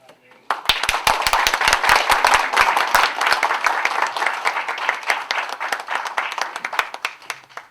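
A church audience breaks into sustained, loud applause after a lecture by a pastor at a school entrance ceremony, dense clapping rising at once and thinning slightly toward the end.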